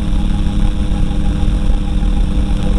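A light propeller aircraft engine runs steadily before take-off at about 4850 revs, a constant, loud, throbbing drone, close up and uninterrupted, with no talking.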